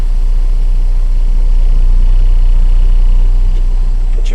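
A tractor-trailer truck with its brakes released creeping forward under light throttle during a brake test, heard from inside the cab as a steady low engine rumble and drone with no voices.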